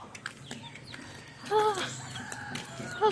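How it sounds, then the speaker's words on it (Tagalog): Chicken clucking beside a river in Bulacan, short throaty calls rising twice over outdoor background noise, fairly close. "Ay, may manok ko."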